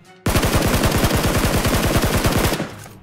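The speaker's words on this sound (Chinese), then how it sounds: "马路上也有枪声" Automatic gunfire in the mobile shooter Peace Elite: a loud, close, rapid and steady stream of shots lasting over two seconds, then cutting off, with no talk.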